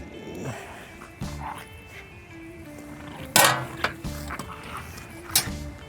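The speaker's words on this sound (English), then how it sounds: "You hear Cujo over there? That's my daughter's dog." A dog named Cujo barks a few sharp, separate times in the background of an outdoor seafood grilling setup, mixed with faint clatter of pans and utensils and a little low talk.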